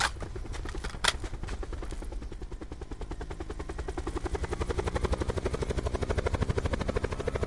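Helicopter in a shooter video game, a loud steady rapid rotor chop pulsing throughout, with a brief sharp burst near the start.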